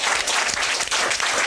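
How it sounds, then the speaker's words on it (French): An audience applauds a festival laureate, a dense, steady wash of clapping that holds loud and continuous throughout with no voices over it. "On peut applaudir pour Faiza."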